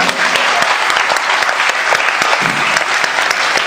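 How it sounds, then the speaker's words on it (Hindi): Loud, dense applause from a wedding crowd greets the couple at the garland exchange of a Buddhist-rite ceremony, continuous clapping close and full throughout. "जोरदार तालियों से इनका स्वागत करें।"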